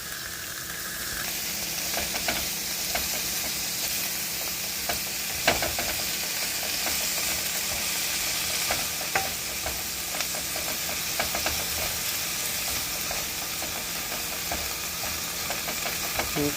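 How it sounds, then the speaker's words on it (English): Cabbage seasoned with sea salt and black pepper sizzles steadily in a pan while being stirred, a soft continuous hiss with occasional light scrapes and clicks. "Give it a little saute, stir it around."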